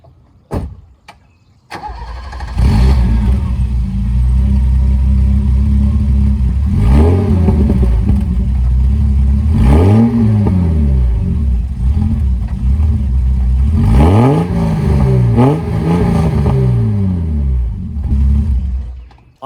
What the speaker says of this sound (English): So I literally just cut the muffler off and now it actually sounds kind of cool.